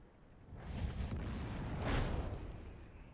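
A Wespe artillery gun in World of Tanks fires with a muffled, rumbling boom that swells and fades over a few seconds, distant and fairly quiet.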